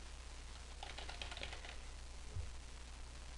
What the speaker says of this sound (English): So just hit enter behind one of them and type in a code.